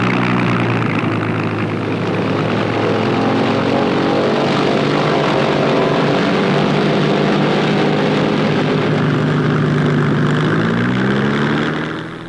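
Wartime propeller aircraft of the Air Transport Auxiliary fly past with loud, steady engine drone, the multiple propeller engines throbbing and swelling continuously for about twelve seconds.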